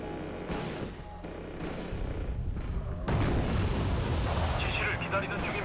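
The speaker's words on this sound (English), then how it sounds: "Already engaging with the Gatling cannons." Gatling cannons and explosions rumble in the PC strategy game Wargame: Red Dragon, with low booms and continuous battle noise at moderate level and a denser burst midway.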